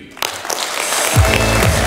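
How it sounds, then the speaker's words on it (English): Audience applause at an international business conference after a company speech, broadband clapping building up and holding steady, with a low thump partway through. "Big applause again for Mr. Janis."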